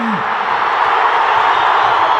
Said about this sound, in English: listen to the delight of the crowd and the roar of Nepal's captain